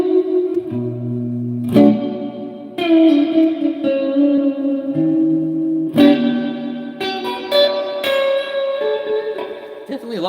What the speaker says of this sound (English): Now, the spring reverb on the Hall of Fame is older.